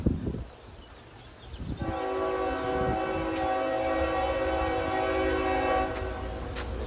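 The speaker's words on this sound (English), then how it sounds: "Train coming." A train horn blares in a long, sustained tone after a brief moment of lower rumble, holding loud and steady for several seconds before easing slightly.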